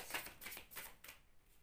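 Oracle cards being handled and covered on a table, with quick close papery rustles and soft shuffling slides in a brief, quiet series.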